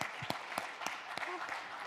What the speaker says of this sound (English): let's give all of them a big round of applause.